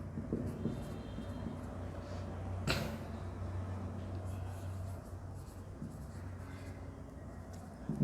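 Marker or chalk writing on a classroom board during an English grammar lesson, a steady soft scratching stroke sequence at moderate distance, with a brief sharper tap partway through and faint room noise around it.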